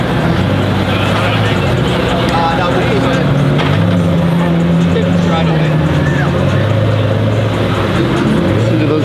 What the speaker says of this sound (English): Listen to those gears.